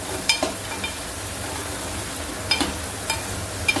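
Turmeric and red masala fry in a pan for bombil batata over lowered heat, giving a steady soft sizzle with a few faint clicks of stirring.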